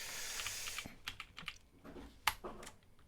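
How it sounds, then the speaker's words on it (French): Keys clacking on a computer keyboard as a command is entered in a HiveOS terminal, a quick irregular run of close, crisp taps ending in a sharper keystroke, with no talk over it. "Donc là, on va taper mode TD Watch."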